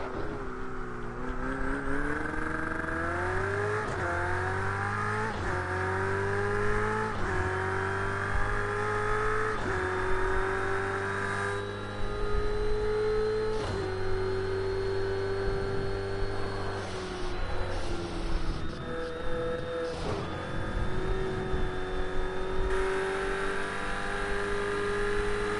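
A McLaren race car's engine revs in a racing video game, climbing through repeated gear shifts with rising and falling whine, loud and close throughout, with almost no talk.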